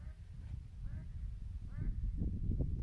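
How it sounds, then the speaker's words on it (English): Ducks along a river quack in a few scattered, nasal calls over a low rumbling background of wind and water. "Those are ducks."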